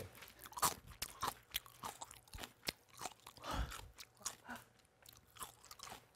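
Close, crisp crunches come as someone bites and chews young radish kimchi, with irregular bites repeating for several seconds and no talking.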